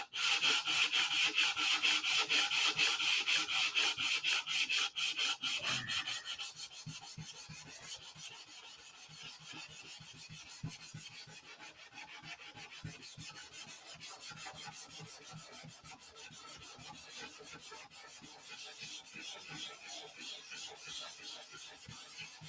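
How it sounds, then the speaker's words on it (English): Steady abrasive rasping of sandpaper on a wooden P-47 model aircraft, loud and continuous at first, then fading to a quieter, scratchy rubbing that carries on. "This channel will be all about sanding for the next few months"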